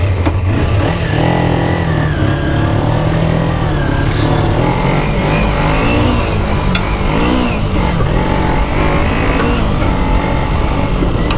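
A Dirt Ninja 250 motorcycle rides a desert road, its engine droning loud and steady throughout, with small shifts in throttle over constant road and wind roar.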